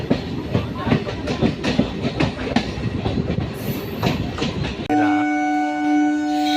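A suburban train rumbles and clatters as it pulls away from Karmelaram station in Bengaluru, wheels clacking rhythmically, then a sustained horn blares loudly near the end.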